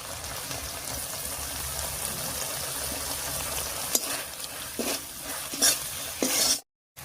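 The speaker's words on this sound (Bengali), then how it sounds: "হলুদ লবণ দিয়ে মশলাটা খুব সুন্দর করে নাড়িয়ে নিয়েছি।" A spice paste mixed with turmeric and salt is stirred in a pan for a prawn dish, giving a steady low sizzle with a few sharper scraping strokes near the end before it cuts off abruptly.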